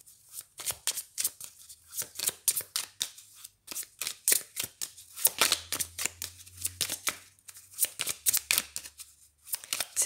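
Oracle cards are shuffled by hand in quick, repeated papery riffles and slaps. The bursts come close together with brief pauses between them and sound near and crisp.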